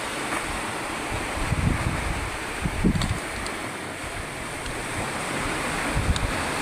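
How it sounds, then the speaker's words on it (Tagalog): Strong sea waves pounding the shore after a typhoon, a steady roar of surf mixed with gusty wind buffeting the microphone, with occasional louder surges. "Sa sobrang lakas ng alon"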